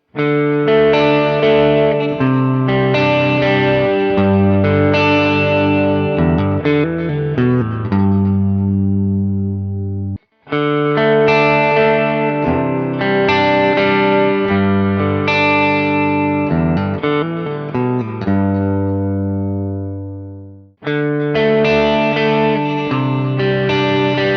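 Clean electric guitar chords and picked notes, heard first through Maybach pickups and then through upgraded Faber pickups, ring out loud and sustained in two long passages, each fading out, with a third beginning at the end.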